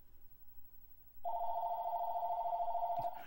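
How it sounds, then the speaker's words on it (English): A real phone rings during a Tomb Raiders livestream: a single loud, sustained electronic ring tone starts after a second of quiet and runs for nearly two seconds before a sharp click cuts it off. "Getting phone calls right now."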